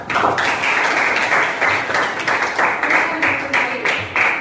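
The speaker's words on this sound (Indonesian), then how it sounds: "Beri aplaus untuk kelompok 1" A classroom group claps for the first group's presentation, a dense, steady wash of many hands at close range lasting several seconds, with faint talk mixed in.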